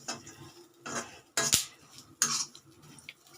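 Raisins are roasted on a slow flame and stirred in a pan while making rava mixture: a spoon scrapes and clinks against the pan in short, irregular strokes, with two sharper metallic knocks in the middle, close and without talk.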